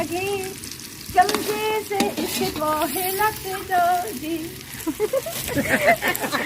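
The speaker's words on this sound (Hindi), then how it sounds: "तो इसको हमने गोल्डन ब्राउन करना है, मतलब ठीक ठाक ब्राउन करना है।" Onions for beef biryani fry toward golden brown in oil, a low steady sizzle with stirring clatter heard beneath someone speaking almost throughout.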